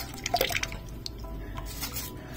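A little water splashed onto aloe vera pieces while they are wrapped in aluminium foil, with light drips and a few clinking kitchen sounds, close and fairly soft.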